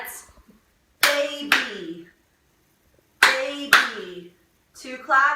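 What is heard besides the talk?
children clapping out syllables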